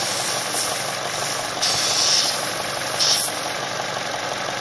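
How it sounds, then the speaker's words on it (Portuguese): Chevrolet Cruze engine idling with a slightly irregular rhythm, caused by a small leak in the engine breather membrane built into the valve cover, heard up close as a continuous hiss-laden mechanical hum with brief surges; no talking. "A marcha lenta tá um pouquinho irregular"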